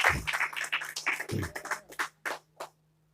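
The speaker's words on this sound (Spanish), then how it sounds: "Denle un aplauso a Jesús." Church congregation breaking into applause, a burst of uneven clapping that starts dense and close, then thins into scattered claps before stopping.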